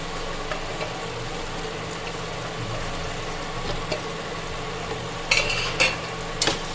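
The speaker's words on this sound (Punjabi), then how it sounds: "ਹੁਣ ਅਸੀਂ ਇਹਨੂੰ ਮਸਾਲੇ ਦੇ ਨਾਲ ਹੀ ਪਿਆਜ ਨੂੰ ਫਰਾਈ ਕਰ ਲਾਂਗੇ" Onion sizzles with spices in a pan, a steady close frying hiss with occasional stirring scrapes and clicks.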